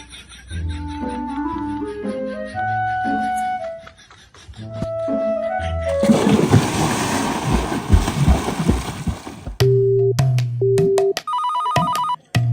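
A mobile phone ringtone plays loudly and alone as a repeating melodic tone pattern, broken midway by a burst of broadband noise, then returns as short repeated beeping tones near the close.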